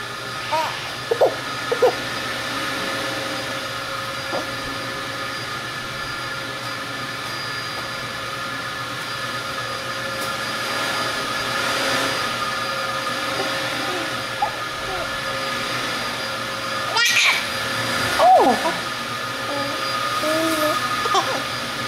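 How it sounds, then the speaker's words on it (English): A household vacuum cleaner runs steadily as a continuous mid-level drone throughout, with a child's and adult's voices and brief thumps over it. "Now Daddy needs to turn off that vacuum cleaner."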